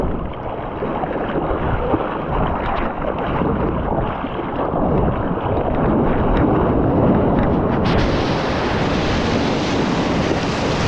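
Small one-to-two-foot surf at Bolsa Chica beach rushes and washes continuously, a loud, broad roar mixed with gusty wind buffeting the microphone, swelling a little louder toward the end with no voices.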